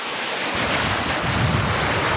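Ocean waves washing onto the shore at the Bucana river mouth after a typhoon, a continuous nearby surf roar mixed with wind buffeting the microphone, brief and without talk.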